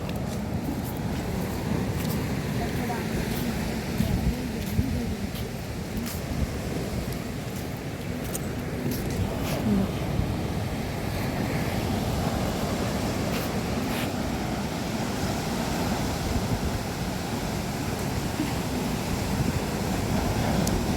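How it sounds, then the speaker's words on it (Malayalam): Steady roaring wind buffeting the microphone outdoors at Shanghumukham Beach, with a constant low rumble of surf underneath, continuous for the whole stretch. "കാറ്റ് കാറ്റ്"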